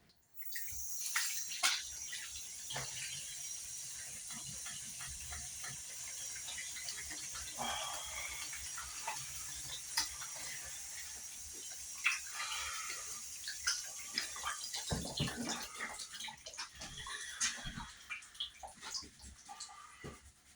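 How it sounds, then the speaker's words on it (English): Water runs steadily from a tap while hands are washed under it in a kitchen, a continuous splashing wash with brief knocks and clatters near the end. "I'm just going to wash my hands again."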